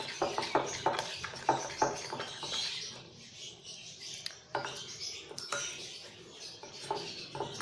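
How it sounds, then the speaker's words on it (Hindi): Donut dough made with yogurt is stirred in a bowl, giving soft, uneven scraping and clinking knocks of a utensil against the bowl, fairly quiet and close. "अच्छी तरह से यूँ मिक्स कर लें इसको।"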